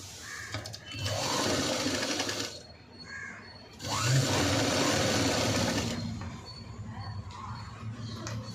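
A sewing machine stitches the lining onto a V-neck princess-cut blouse in two long bursts of steady, close running with short pauses between them.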